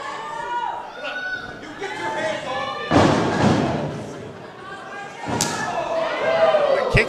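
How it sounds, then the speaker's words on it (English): A kick to the back during a wrestling match, giving loud slamming thuds on the mat with crowd chatter around and an excited commentator talking over the impacts. "Kick to the back."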